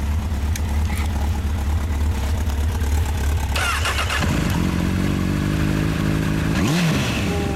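A 2012 Honda CBR1000RR Fireblade SC59 with a TSR exhaust fires up midway, settles into a deep, steady idle up close, then gives one sharp rev near the end over constant background noise.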